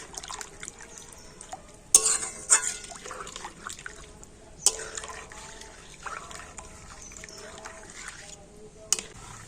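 Powdered milk stirred into liquid milk for payesh, a spoon clinking and swirling with small liquid sloshes, a few sharper taps against the vessel, over a low background hum.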